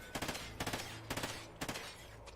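Short controlled bursts of automatic gunfire in a Call of Duty game, four quick clusters of rapid shots spaced about half a second apart, fairly close, with no talking.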